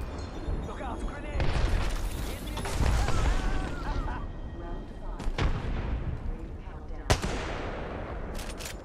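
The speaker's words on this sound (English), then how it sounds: "Look out, grenade!" A grenade blast and rapid gunfire in the Apex Legends battle royale, dense bursts of shooting with sharp loud cracks near 5.3 and 7.1 seconds, while voices talk throughout.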